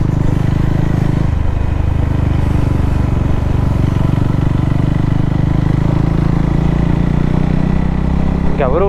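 A motorcycle engine drones steadily and loudly on a long ride, a constant low rumble with slight shifts in pitch, while a rider talks over it throughout.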